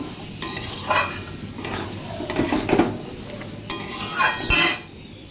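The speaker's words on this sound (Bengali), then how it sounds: "এবার আলু দিয়ে দিয়েছি মশলার সঙ্গে ডাটাটাও দিয়ে দিয়েছি আলুটা তো ভাজা ভাজা হয়ে গেছে" Potatoes and vegetable stalks sizzle with spices in a pan while a utensil scrapes and stirs in several bursts, with occasional metallic clinks; close and fairly loud, no talking.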